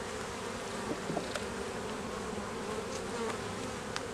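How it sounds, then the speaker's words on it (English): Honey bees buzz around an open beehive, a dense continuous drone close by with individual bees zipping past now and then, no talking. "And y'all see these bees?"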